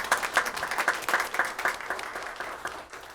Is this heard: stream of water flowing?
no